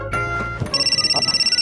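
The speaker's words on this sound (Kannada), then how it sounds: "ಓ, ರಾಮಣ್ಣ ಫೋನ್ ಮಾಡ್ತವನೆ." Voices and shuffling give way to a mobile phone ringing for an incoming call, a bright electronic tone pulsing in quick, even bursts, close and fairly loud.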